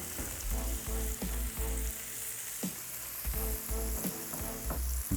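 Bacon and mushrooms sizzling together in a frying pan, a loud, dense crackle going on without a break, with sharp pops and stirring scrapes at irregular intervals and no talking.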